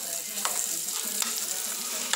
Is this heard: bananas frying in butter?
yes